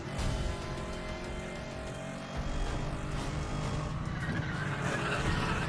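A race car driving and skidding in the video game Need for Speed: The Run, a dense continuous engine roar with tire noise, steady and fairly loud throughout.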